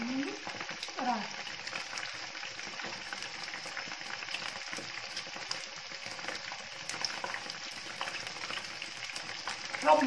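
Battered mushrooms deep-fry in oil with a faint, steady crackling sizzle that runs throughout, quiet and evenly textured, with a soft voice briefly in the background.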